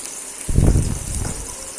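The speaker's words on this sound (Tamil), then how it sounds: "சேர்த்துட்டு நல்லா எண்ணெயில் வதக்கிக்கோங்க" Chopped garlic sizzles in hot oil for an idli manchurian, a brief loud crackling burst that settles into a steady frying hiss.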